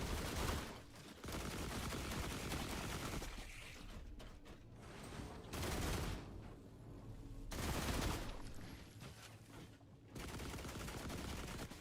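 Companion bots firing guns in The Last Caretaker: several loud bursts of rapid automatic fire, each lasting about a second or two, separated by quieter gaps with mechanical noise.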